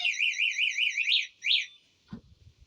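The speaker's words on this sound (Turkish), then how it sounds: "Alarm olduğu için devreye girdi." A Kuba City vehicle's warbling electronic alarm siren wails in rising-and-falling sweeps, cuts off after about two seconds, and is followed by a few low thuds.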